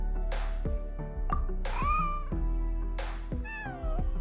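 A white cat named Snowball in Genshin Impact gives three clear, drawn-out meows, close and loud, each rising then falling in pitch with short pauses between them.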